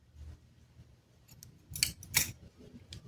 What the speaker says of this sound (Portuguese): E vou cortar.